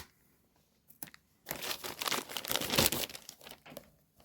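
Tape being pulled off a book package, a crinkly tearing and crumpling noise that starts after a couple of faint ticks and builds for a few seconds, close and moderately loud, before tapering off.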